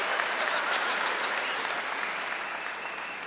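Sustained applause from a comedy cabaret audience, a dense steady wash of many hands clapping at even loudness for the whole stretch, with no voices over it.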